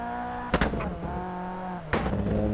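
Abarth 131 rally car racing up the Pikes Peak hill climb, its engine droning steadily with harmonic tone, broken by two sharp bursts as it shifts or revs hard near a hairpin, loud and close throughout.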